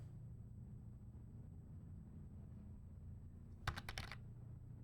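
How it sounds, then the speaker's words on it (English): A short burst of four or five crisp computer keyboard key clacks lands near the end, close and distinct over a quiet low room hum. "I'm assuming that it's picking up all the key clacks."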